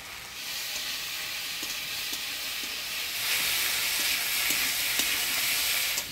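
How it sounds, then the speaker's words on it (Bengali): Boiled taro stolons being stirred in a pan with spice paste, chili-garlic paste, turmeric and salt: a steady close sizzle and hiss with scattered scraping knocks of the spoon, growing a little louder halfway through. "বাটা মশলা, হলুদ, লবণ দিয়ে ভালো করে নাড়াচাড়া করে নিলাম।"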